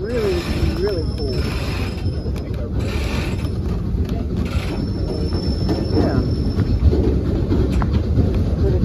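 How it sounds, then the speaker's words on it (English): A passenger train hauled by Shay #11, a geared steam locomotive on the Cass Scenic Railroad's Bald Knob excursion, rumbling steadily with wheel noise and faint squeals while people talk over it. "we're back on the train. We're moving forward now."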